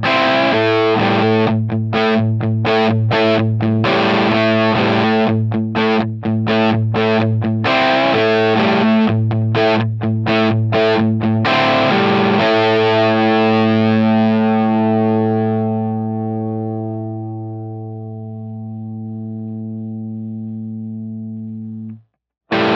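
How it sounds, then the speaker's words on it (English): A heavily distorted electric guitar plays chugging rhythmic chords, then holds a final chord that rings out and slowly fades. "we're obviously going to get more overdrive and distortion"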